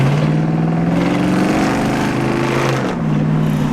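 An engine with an H-pipe exhaust revs in a loud, close, continuous drone whose pitch climbs and then dips near the end, without any talking over it.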